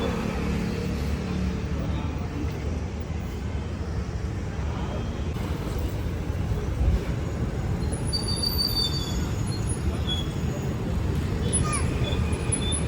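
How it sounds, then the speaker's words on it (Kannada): Continuous rumble and rolling noise of a train passing nearby, with brief high wheel squeals toward the end, heard at steady loudness throughout. "ಸ್ವಲ್ಪ ಅಲ್ಲಿ ಟ್ರೈನ್ ದಾರ ಆಯ್ತದೆ."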